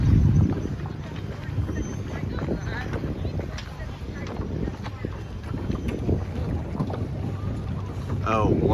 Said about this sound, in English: The wind is coming in from here.